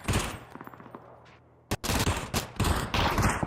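PUBG gunfire during a Bangladesh pro league grand final match: a few scattered shots, then a sharp loud burst of rapid automatic fire with heavy bangs, close and dense, with no talk over it.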